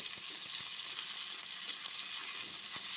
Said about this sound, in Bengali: এখন আদা বাটাটা দিয়ে আলুর সঙ্গে আরও একটু সময় ভেজে নিচ্ছি।